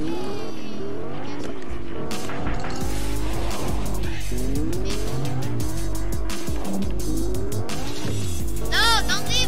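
A car in the Fortnite video game drives hard, its engine droning loud and steady while tires squeal and skid repeatedly, with a sharp squeal near the end.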